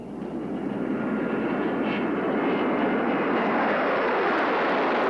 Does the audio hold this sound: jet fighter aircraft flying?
yes